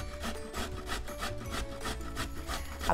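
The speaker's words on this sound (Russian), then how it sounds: "я беру прям ту же терку, ничего страшного, натираю туда морковку." A carrot is grated on a hand grater in a home kitchen, with rhythmic rasping strokes repeating about ten times at a steady pace, close and fairly quiet, with no talking.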